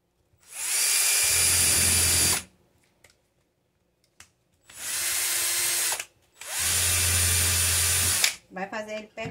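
Power drill driving a screw into wood, in a bottle crafts project: three sustained whirring bursts of about two seconds each with short pauses between them, loud and close, followed by brief clattering at the end.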